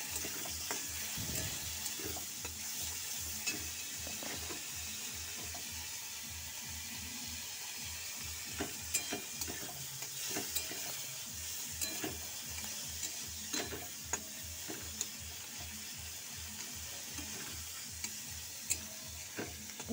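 Fish fries in a pan for a home-cooked winter vegetable dish, a steady sizzle with repeated soft stirring or scraping ticks running evenly throughout at moderate level, no voices.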